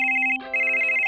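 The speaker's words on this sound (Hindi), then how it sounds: "रूमी का फोन बज रहा है।" A mobile phone rings with a bright, steady electronic tone on a toy craft set for L.O.L. dolls, cutting out briefly partway through, then resuming clearly and close, loud and alone with no talking.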